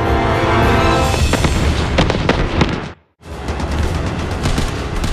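Anti-aircraft guns firing shells over a city in 1942 make loud, dense booming bursts that briefly cut to silence before the barrage resumes.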